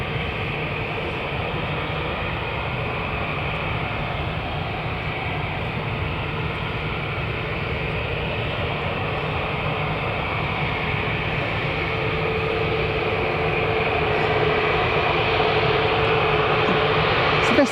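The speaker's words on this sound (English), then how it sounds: "it's a 737 and it's going to Fuerteventura" A Boeing 737 airliner bound for Fuerteventura at Manchester Airport gives a steady, broad jet roar that holds for the whole stretch and swells slightly toward the end, with no voices.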